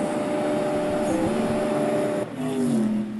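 A car engine in the CSR2 racing game holding second gear, a loud, steady, close drone with sustained harmonic tones and a slight pitch change near the end as it runs out the gear.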